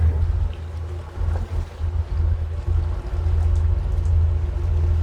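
A small boat's outboard motor powers up near shore in wind, a steady low engine drone that holds and builds slightly, with wind and water noise around it.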